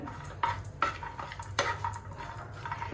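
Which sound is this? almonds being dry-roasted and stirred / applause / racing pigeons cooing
almonds being dry-roasted and stirred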